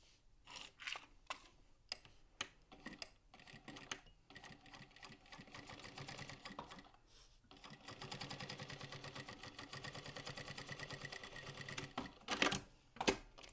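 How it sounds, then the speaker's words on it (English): A sewing machine runs in short bursts and then one long steady stretch of top stitching across the top of a pocket, with a few clicks and handling sounds at the end and no one talking. "we're just top stitched right across the top of the pocket"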